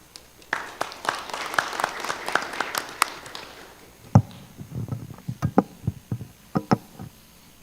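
A small board-meeting audience claps for school principals, a brief burst of applause that thins into scattered individual claps.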